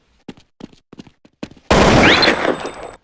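A Counter-Strike gunshot cracks into a loud sustained burst of fire after a series of short clicks and taps, the blast ringing out close and harsh for over a second before cutting off.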